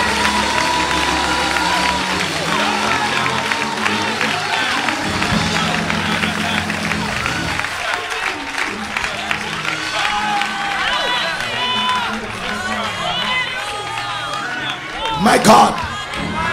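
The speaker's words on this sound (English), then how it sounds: "Oh, give him a clap offering and worship." A church congregation claps and cheers during a sermon, a dense, steady roar of hands and voices filling the whole stretch, with a brief louder burst near the end.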